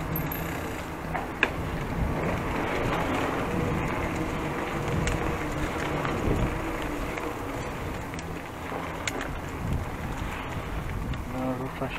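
Steady wind rushing outdoors, a constant broadband blustering with faint buzzing in the background.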